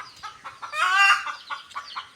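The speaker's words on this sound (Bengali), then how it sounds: "আর মুরগিগুলো চিল্লাচ্ছে দেখছি" Chickens and chicks cluck and squawk close by, a louder drawn-out squawk in the middle surrounded by short clucks.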